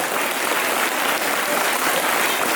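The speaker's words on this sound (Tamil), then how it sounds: "கைத்தட்டி ரொம்ப பெருசா இருக்கும்." Audience applause at a government high school prize-giving ceremony, dense steady clapping from a large crowd, loud and continuous with no pauses.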